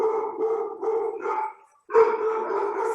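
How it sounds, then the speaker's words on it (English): Several dogs bark in a fast, steady run of loud, close barks and howl-like yelps, pausing briefly before bursting out again. "sorry, my dogs are going bananas"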